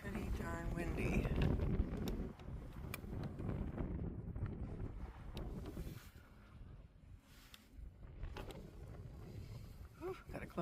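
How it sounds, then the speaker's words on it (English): Strong, biting cold wind buffets the microphone at an RV campsite in a steady, heavy rumble that gusts and eases over about ten seconds. "Yeah, it's been pretty darn windy."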